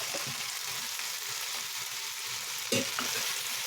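Frozen broccoli and chopped canned mushrooms fry in a pan with a continuous, fairly quiet hiss and crackle, broken by a brief louder stir or clatter near the end.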